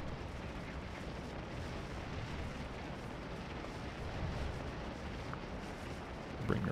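In the Scourge of War Antietam battle game, distant artillery rumbles steadily, with dull booms blending into a constant low battlefield roar and a sharper pop at the very end.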